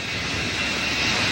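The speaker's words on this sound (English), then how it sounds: "That's the plane Gary Powers was flying in." A U-2 spy plane's engine roars as a broad, steady jet-like rush, loud and continuous for the whole short stretch with no voices.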